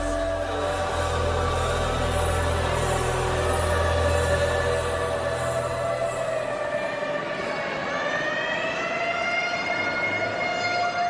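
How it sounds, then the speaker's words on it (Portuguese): Ambulance siren wailing loud and steady, its rising and falling tone carrying on without break and with no voices. "Enquanto isso, a ambulância corria para a Clínica Santa Eunice"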